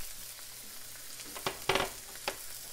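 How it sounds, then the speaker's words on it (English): Onions fry in a pan with a soft, steady sizzle, broken by a few sharp scraping clicks of a spoon stirring, close and fairly quiet. "Then the onions and give it a stir."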